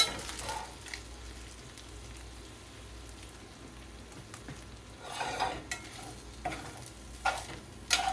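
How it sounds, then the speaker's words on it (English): Browning food stirred in a pan with brown bits on the bottom: a quiet, steady sizzle with intermittent scraping strokes that grow louder toward the end. "Let me stir this again."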